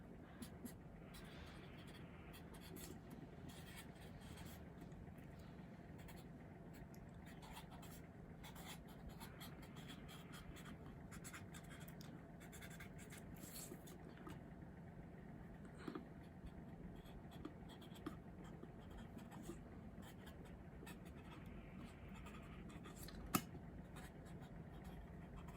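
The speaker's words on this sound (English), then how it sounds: "I'm going to finish writing it." A pen scratches steadily across paper while a note is written for an ancestor money offering, a quiet, continuous faint scribbling with no break.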